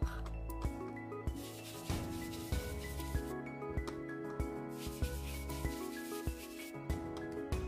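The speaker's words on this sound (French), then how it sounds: "je vais venir passer avec ma brosse sur mon pochoir" A stiff brush dabs and rubs colored ink from rainbow ink pads through a stencil, making steady, rhythmic scratchy strokes close by with no talking.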